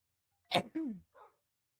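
One quiet, abrupt sneeze with a sharp burst of air, followed by a short breathy trailing sound, in a quiet room.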